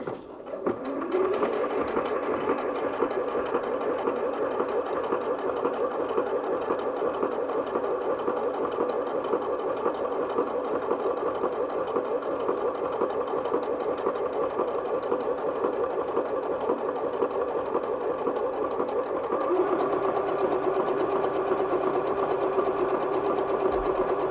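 A Bernette B38 sewing machine runs a triple straight stitch with presser foot A, a steady continuous mechanical whir and rapid needle chatter at close range, holding an even pace with a slight shift in tone near the end.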